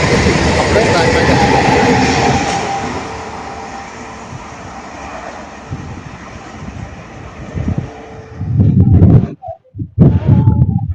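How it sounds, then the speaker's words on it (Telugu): A MEMU passenger train rolls through the middle line at a railway junction with a steady, broad rumble and rattle of wagons. Gusts of wind buffet the microphone toward the end. "వచ్చినటువంటి మెమూ ప్యాసింజర్ ఫ్రెండ్స్ చూడండి, మధ్య నుంచి వెళ్తుంది."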